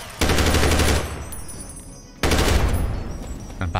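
Automatic gunfire in the Fallout video game with the Capital Punishment mod comes in two loud sustained rapid bursts, close and harsh, with a short fading gap between them.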